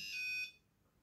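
A Tracker PI-2 pulse metal detector gives one short, high electronic beep as it is switched on, clear and close, then quiet background.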